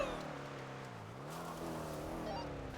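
A car engine running in a GTA roleplay game, a steady droning hum with a slight dip and rise in pitch, heard alone at a moderate, constant level.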